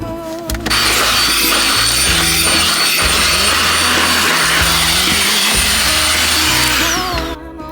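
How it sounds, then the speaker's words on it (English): A vacuum cleaner runs along a car's floor with a loud, continuous high whine and roar that starts abruptly and cuts off at the end, its pitch shifting as the nozzle moves. "I'm just going to run the vacuum along the bottom of the car"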